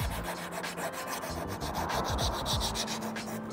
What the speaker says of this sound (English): So I'm using these like Swiss files. They're basically super fine files, and I'm just going in bit by bit